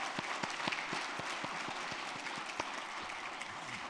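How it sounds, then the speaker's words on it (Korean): A church congregation applauds its elders during a Sunday afternoon worship service, steady, moderately loud clapping with a few distinct individual claps standing out. "우리 1년 동안 또 수고하시는 우리 장로님들께 우리 격려 박수 부탁드립니다"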